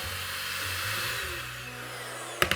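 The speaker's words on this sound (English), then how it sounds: "I'm gonna use a mixer" An electric hand mixer set to low whirs steadily while beating green pudding mix, a continuous motor hum that runs alone, then a few sharp clatters at the end.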